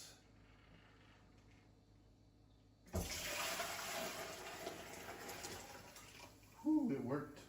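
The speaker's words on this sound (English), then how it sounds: "Then I'll pour the broth back in here." Homemade chicken broth poured into a pot, starting after a quiet moment as a sustained splashing rush of liquid that keeps going, with a brief voice near the end.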